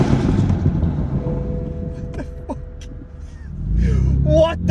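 A 500 bhp stage 1 BMW M4 with a deleted silencer and no catalytic converters is revved, giving a loud engine burst at first and another rising rev near the end, with voices in between.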